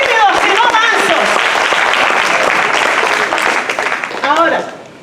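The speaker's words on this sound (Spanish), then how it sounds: "no pueden dar un buen aplauso" A church congregation bursts into loud, dense applause during a sermon, many hands clapping steadily close by, with cheers and voices mixed in before the clapping fades out at the end.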